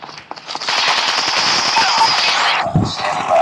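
Rapid automatic gunfire from the video game Call of Duty Mobile, a loud sustained burst of shots close up that cuts off near the end, with a brief gap and more firing.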